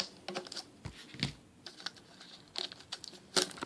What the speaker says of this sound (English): let's use the trusty scissors to try and expedite the plastic removal